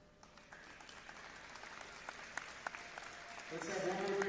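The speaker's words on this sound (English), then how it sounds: "Let's have one more big round of applause for the 2026 All-Tournament team" An audience applauds at a girls' Christian academy basketball tournament awards ceremony, a modest spread of clapping that swells louder near the end, with a voice speaking over it.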